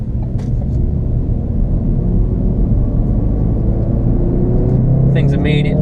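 A Ford Focus RS engine switched into sport mode, its steady loud rumble filling the cabin, with a brief sharper burst near the end.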